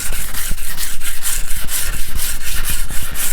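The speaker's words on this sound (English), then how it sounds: "I've got my 240 grit sandpaper wrapped around my sanding block, and I'm just going to begin sanding the surface." Sandpaper of 240 grit wrapped on a sanding block is worked over the finish of a six-string multi-scale guitar, giving steady rhythmic rasping strokes, close and fairly loud, with no talk.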